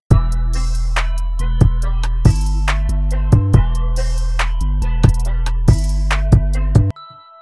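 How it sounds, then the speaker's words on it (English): A simple synth bell melody from the FL Studio Citrus plugin rings out over a deep sustained bass, with bright plucked notes in a steady repeating rhythm that stop abruptly near the end. "So it's just this pretty simple bell sound I found in Citrus."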